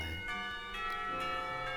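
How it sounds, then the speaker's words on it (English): School bells pealing in the visual novel Katawa Shoujo, a sustained, ringing metallic chime with bright overtones, steady and moderately loud throughout. "If it weren't for the pealing of bells, I would have sworn the time had stopped."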